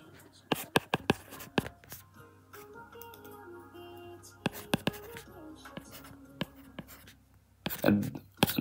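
Chalk or marker tapping and scraping on a board while code is written during an operating systems lecture, a run of sharp irregular clicks and strokes close by, with a low voice and faint background hum.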